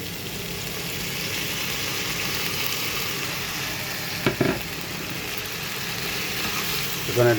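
Okra and browned onions frying in a pan, a continuous loud sizzle with a couple of brief spatula scrapes and clinks near the end.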